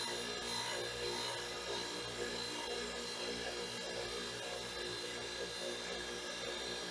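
Soft, light grinding as a balancing arbor part sparks out on the wheel, a steady, even hiss and rasp running continuously at low level with no talk.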